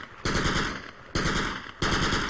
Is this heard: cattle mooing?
no